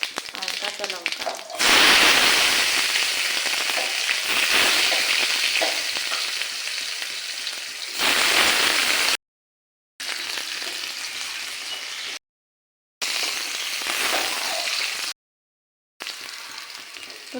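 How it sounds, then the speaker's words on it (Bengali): Garlic and green chilies hit hot oil already holding dried red chilies and cumin, setting off a loud, steady sizzle and crackle. The frying runs on through several short silent breaks. "তো এখন দেওয়া হবে রসুন সম্বরা আর কাঁচা লঙ্কা।"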